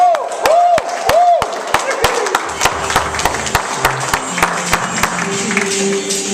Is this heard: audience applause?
yes